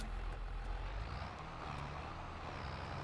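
A tractor engine in Farming Simulator 25 drones at a low, steady idle, fairly quiet and continuous with no speech over it.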